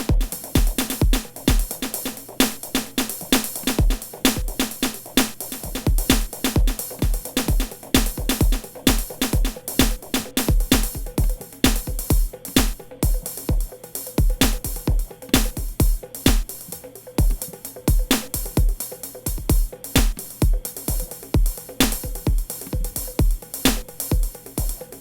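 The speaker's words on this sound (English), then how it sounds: "You have arid, straight and dry, house pop 4 on the floor, which sounds like this." A dry, straight house-pop four-on-the-floor drum pattern from the drum map of Reason 11.2 software, with steady kick hits on every beat and crisp hi-hats and claps driving a loud, continuous loop with no voices.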